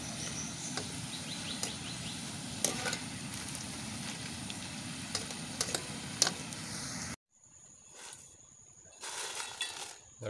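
Raw jackfruit chips deep-frying in hot oil give a steady, dense sizzle with scattered crackles and pops. The frying sound stops sharply near the end, followed by quieter noise and a brief return of sizzling.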